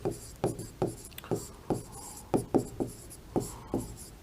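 Chalk tapping and scraping across a board in a Hindi poetry-metre lesson, about eleven short, sharp strokes in an uneven rhythm, close and fairly loud, with no talking over them.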